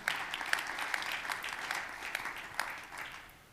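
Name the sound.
audience applause for speaker Kirsten Sibbit Johnston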